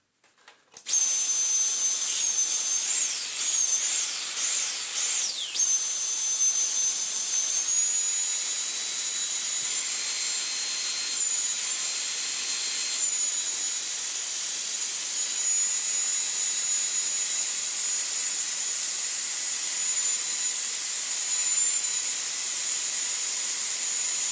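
A Numatic vacuum cleaner with a suction leak starts up and runs on as a loud, steady high-pitched whine and airy hiss, its tone wavering briefly during the first few seconds.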